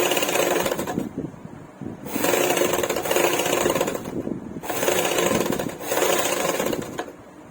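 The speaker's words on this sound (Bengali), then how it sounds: "ওই প্রান্ত থেকে একটা সেলাই ঠিক এই ধার দিয়ে ধরে ধরে ধরে ধরে এসে সেলাইটা দিতে হবে" A sewing machine stitches a seam in a double-katori blouse, running in steady loud bursts of a second or two, separated by brief pauses.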